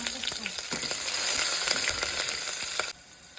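Chopped green chillies with tempering sizzle and splutter in hot oil for a dense, continuous fry, with scattered sharp pops and stirring clicks before the sound cuts off near the end.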